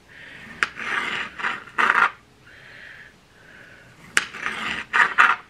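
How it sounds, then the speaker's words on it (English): A knife slices a tomato into half-inch rounds, giving several short rasping strokes in uneven bursts with brief quiet gaps between them, close and alone. "we are going to slice our tomato into half inch thick rounds"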